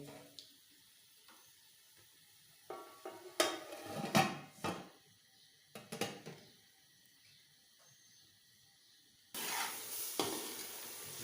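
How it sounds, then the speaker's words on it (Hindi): Masala for a green choliya pulao is fried and stirred in a pan, giving faint sizzling with scraping and clinking spoon strokes, then a steadier sizzle near the end. "अभी 5 मिनट जो है इसको अच्छी तरह भून लेते हैं। बाद में आग तेज़ कर देनी है।"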